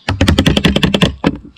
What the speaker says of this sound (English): Make sure you bang that, get all the air bubbles out